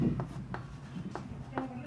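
Chalk or marker strokes on a board during a Class 9 maths lesson on number systems, a few short scratchy taps spaced through a quiet room with a teacher's voice.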